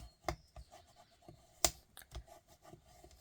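Stamped paper pieces for a Country Birdhouse fun-fold card get rubbed down by hand: a series of short, close scratchy strokes with a few sharper crinkles, moderately quiet and with no talking.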